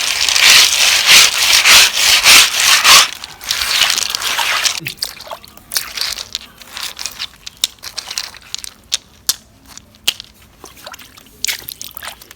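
Glass beads in Ghana are polished by hand with water, rubbing back and forth in a loud, continuous scraping for several seconds, which then gives way to scattered clicks and light knocks.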